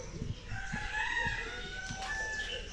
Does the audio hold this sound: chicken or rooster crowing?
yes